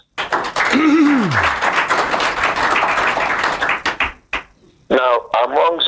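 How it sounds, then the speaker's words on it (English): A studio audience on a Nigerian family call-in radio programme claps in a dense burst of taps for several seconds, with voices and a brief sung or spoken phrase cutting through near the start and end. "make una clap for ourselves."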